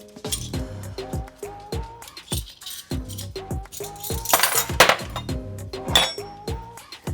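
Small metal measuring spoons clink and tap repeatedly while sugar is measured out, a quick irregular series of close, bright chinks with no talking.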